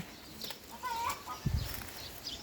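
Chicken clucking at a backyard vegetable garden in rural Thailand, a couple of short clucks and a brief flutter near the middle, fairly close but soft over quiet outdoor background.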